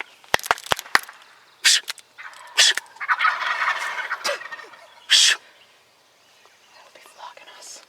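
Wild turkeys gobbling during a spring bow hunt, several loud, sharp gobbling bursts in quick succession, close by, with hushed whispering voices between calls.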